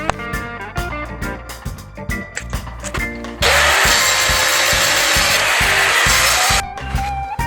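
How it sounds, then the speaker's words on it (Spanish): Power saw cuts through two metal rods for a handmade battery bracket, a loud steady grinding whine lasting about three seconds, framed by sharp metallic taps and clanks before and after. "Así que voy a cortar las 2 varillas"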